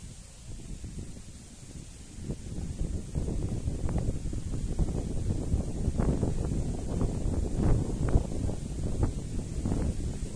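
Gusty outdoor wind at a beach in Narra, Palawan buffets the microphone with low rumbling bursts that grow stronger and more frequent as it goes on; no one speaks.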